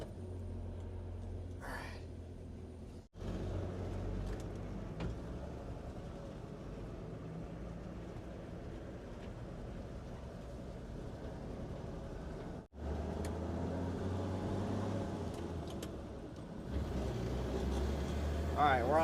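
A 1969 Chevy C10 pickup cruising on the highway, heard from inside the cab as a continuous low engine and road rumble, with two short breaks and a slight rise near the end, fairly quiet overall.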